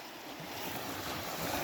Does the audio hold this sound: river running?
yes